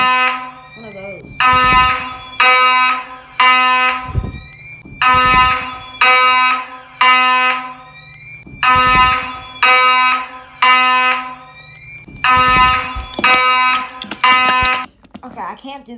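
A fire alarm in an abandoned building sounds in loud, repeating bursts of harsh electronic tones with short gaps between them, steady and close throughout.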